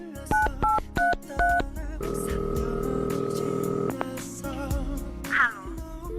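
Telephone keypad tones beep out a quick run of separate digits, then a steady dial or ringback tone holds for about two seconds, followed by a few more faint clicks and beeps.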